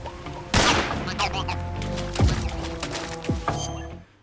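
Several loud, close gunshots in the stealth action game Metal Gear Solid 3: Snake Eater, spaced about a second apart, each ringing out with an echoing tail over a low ambient background.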